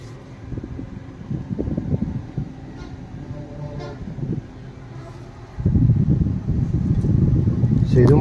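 Air conditioner blower humming steadily inside a used Tata Zest car with a 1.2-litre petrol engine, a low continuous whoosh that grows louder partway through, under someone talking.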